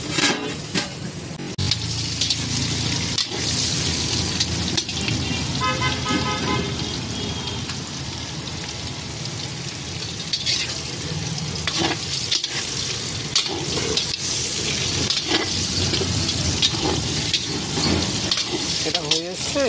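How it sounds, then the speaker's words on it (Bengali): Food fries in a covered pan with a constant close sizzle and crackle, occasional sharper pops and clinks, and a voice speaking at times over it. "একটু ঢেকে দেবো, তাহলে তাড়াতাড়ি ভাজাটা হয়ে যাবে"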